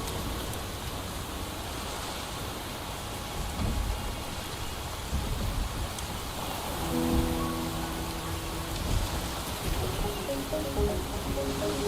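Steady rain hisses throughout a scene in the game Wuthering Waves, with a dense wash of drops, soft low rumbles and faint tonal game music creeping in partway through.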